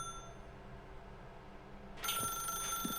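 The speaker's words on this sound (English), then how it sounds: "Now pick up the phone, said the bucket." An old-style telephone bell in The Stanley Parable starts ringing abruptly after a stretch of quiet room tone, loud and sustained.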